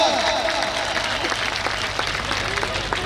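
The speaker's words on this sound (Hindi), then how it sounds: "एक बार जोरदार तालियां, बहुत जोरदार तालियां एक बार।" An Ambedkar Jayanti festival crowd breaks into loud applause, dense clapping from many people carrying steadily with crowd voices and a low hum underneath.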